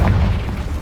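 A Confringo fire spell explodes in Hogwarts Legacy: one short, heavy, low boom that rolls on briefly, with nothing else heard.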